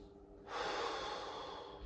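A single audible inhale through the nose during a hamstring stretch, starting abruptly after a quiet moment and continuing as a steady airy rush, close and alone.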